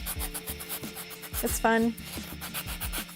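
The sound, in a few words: sanding a miniature model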